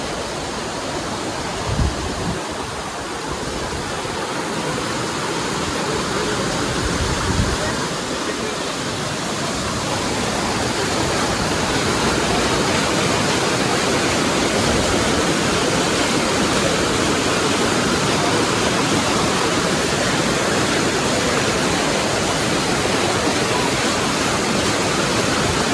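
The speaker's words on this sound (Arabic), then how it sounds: "مع صوت المي، طبعا كلها تطلع من الجبل." Mountain water streaming down in a waterfall near Fethiye, Turkey, a loud, continuous broadband rush close by, with a couple of brief knocks early before the roar settles into an unbroken steady wash.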